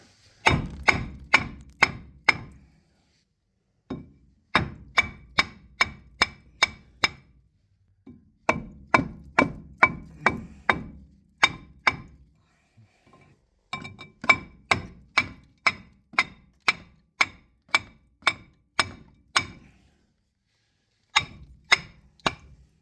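Sharp metallic hammer blows on seized Kia brake parts ring out in rapid bursts of repeated strikes, separated by short pauses, loud and close.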